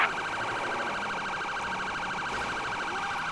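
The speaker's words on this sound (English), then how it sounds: "Let's get the sirens on here." Police car siren in the LSPDFR game, a steady wailing tone sounding loud and continuous throughout during a vehicle pursuit.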